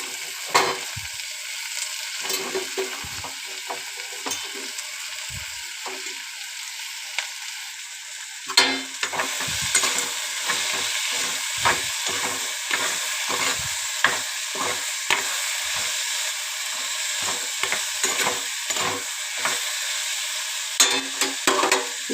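Tomatoes and chopped bitter gourd fry in a pan for a bitter gourd and egg stir-fry, a constant close sizzle that turns busy with repeated scraping stirs in the second half, with no talk.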